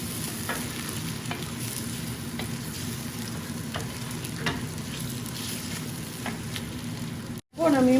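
Chicken for biryani fries in a pan, giving a steady close sizzle broken by repeated scraping strokes of a chef's spoon, before a brief cutoff near the end.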